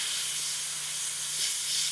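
Airbrush spraying orange paint onto a Hive Tyrant miniature, a steady close hiss of air that runs unbroken throughout.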